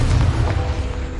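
A Confringo blasting spell goes off in Hogwarts Legacy, a single heavy, close boom with a deep rumbling body that holds steady across the short burst.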